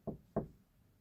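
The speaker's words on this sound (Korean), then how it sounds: "그는 집으로 다가가 문을 두드렸어요." Two firm knocks on a wooden house door, spaced about a third of a second apart, close and dry with short decay, then quiet.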